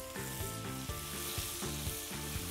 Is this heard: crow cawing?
no